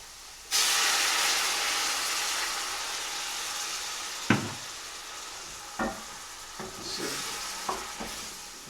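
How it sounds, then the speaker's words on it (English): Water splashed into a hot frying pan for a chickpea curry base bursts into a loud, broad sizzle and hiss that holds steady, with a few sharp clinks of stirring utensils against the pan. "So splash of water now."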